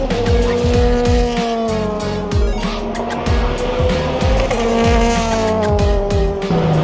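BTCC touring cars lapping in a practice session at Brands Hatch, heard from outside the final turn: loud, continuous engine roar with rising and falling pitch as cars pass, gear changes and tyre squeal throughout.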